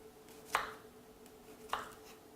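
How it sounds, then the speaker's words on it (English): A knife chops a cucumber into smaller pieces on a board for a skin mask, two distinct crisp cuts about a second apart in a quiet room. "I'm just going to cut it into smaller pieces."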